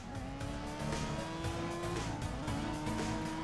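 A racing car's engine drones steadily in the CSR2 racing game, loud and close, with the pitch climbing through gears and faint tire squeal over a dense, continuous roar.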